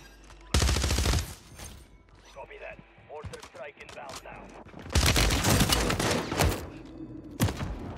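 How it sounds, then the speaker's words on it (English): Shotguns fire in Warzone 3 on Rebirth Island, two loud blasts of gunfire separated by quieter game sounds, with someone talking faintly in between. "Holy, those shotguns are so broken."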